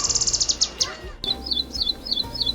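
A songbird delivers quick bursts of high, bright chirping notes in rapid rhythmic runs, a short pause, then another series of evenly spaced whistled phrases, close and clear.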